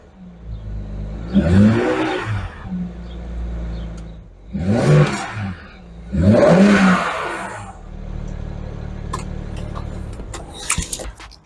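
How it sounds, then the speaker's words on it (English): A BMW N54 engine, just repaired for a misfire, starts up and runs, with three distinct bursts of revving separated by quieter idle, heard nearby with no talking. "we're going to give it a start to make sure everything's okay"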